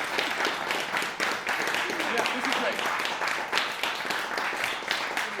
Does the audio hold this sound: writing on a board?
no